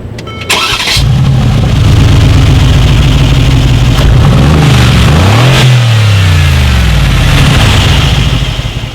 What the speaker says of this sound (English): there are dual chrome exhaust tips on each side of the vehicle. So as always, you guys, here is that exhaust clip.